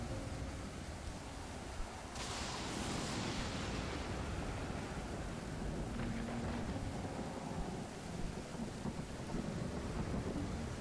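Heavy storm in the survival game Stranded Deep, with steady broadband rain and rumbling wind throughout and a louder thunder crack swelling around the middle, no voices.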